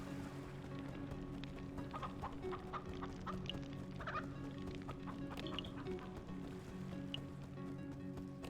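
Chickens cluck repeatedly in a video game, with short scattered calls at moderate distance over a steady ambient bed and no talking.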